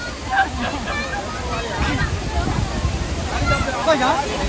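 A waterfall on a nature outing rushes and splashes as a steady, loud broadband roar, with people's voices murmuring faintly beneath it.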